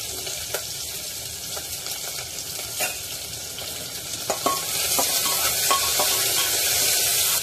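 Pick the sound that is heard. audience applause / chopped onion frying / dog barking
chopped onion frying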